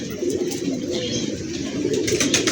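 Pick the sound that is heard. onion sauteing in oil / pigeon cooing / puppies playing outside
pigeon cooing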